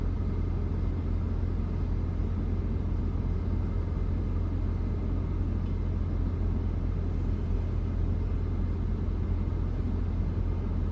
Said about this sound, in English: Damn, that car sounds terrible.